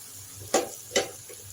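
Chicken marinated with salt, turmeric and chili powder goes into a hot pan of curry and sizzles in two short, sharp bursts close by. A low, quiet hiss continues between them.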